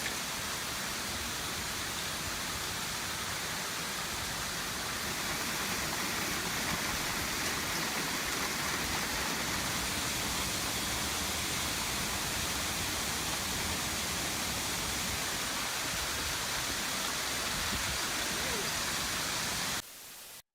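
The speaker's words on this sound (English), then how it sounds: "Witness this intense hailstorm recorded in the United States" An intense hailstorm in the United States pounds down as a continuous, loud roar of dense impacts, steady and unbroken for about twenty seconds before cutting off abruptly.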